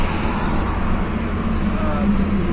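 Steady roadway hum of cars and trucks on an Indian expressway at nightfall in cold, low-visibility weather, a continuous rumble of slowed traffic heard from inside a moving vehicle.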